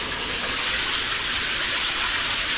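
Fast-flowing water on the River Thames near a weir by a village, a steady broadband rushing gush that holds at a loud, even level from start to finish with no voices.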